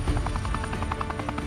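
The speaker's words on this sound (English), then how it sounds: "the rescue helicopter departs instantly for the trauma center" A departing rescue helicopter, a lifeguard aircraft, roars steadily with rapid rotor chop throbbing continuously, loud and close with no voices.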